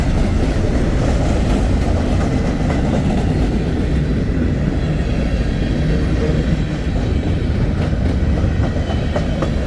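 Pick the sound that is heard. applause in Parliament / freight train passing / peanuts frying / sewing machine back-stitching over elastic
freight train passing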